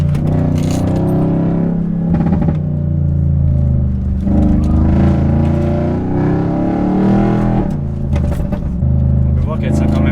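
A tuned Audi S6 C7.5 with a Stage 2 tune of about 600 hp drives and accelerates, its engine droning loudly and steadily throughout while people talk over it inside the car.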